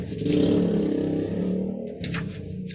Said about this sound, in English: you heard the motorcycle again